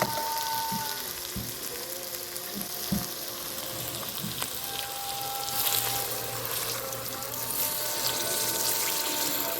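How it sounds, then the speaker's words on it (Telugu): Water goes into a hot pan of mutton keema, setting off a loud, continuous sizzle and bubbling hiss with a few clinks of the utensil early on. "ఇప్పుడు కొన్ని నీళ్ళైతే వేసి ఉడకబెడదామండి"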